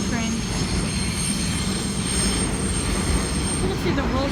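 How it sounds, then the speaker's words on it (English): New York subway D train at Smith-9th Streets station, a loud rumbling roll of cars with steady low rail noise and some faint wheel squeal traces, continuous throughout. "There's the D train."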